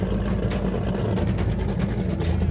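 Twin Mercury 520 V8 engines, 8.6 litres each, power an Outerlimits SL36 racing boat at speed with a loud, unbroken full-throttle roar. Dense low rumble and wind rush fill the whole stretch.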